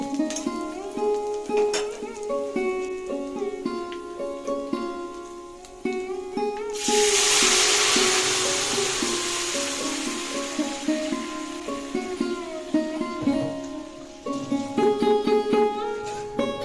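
Boiled dal goes into a pan of frying ginger, setting off a sudden burst of broad hissing sizzle about midway that lingers and slowly eases, with background music playing throughout.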